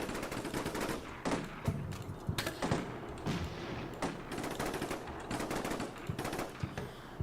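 Machine gun fire in the tactical war game Combat Mission: Black Sea, dense rattling bursts and scattered gunshots repeating steadily throughout at a moderate, slightly distant level.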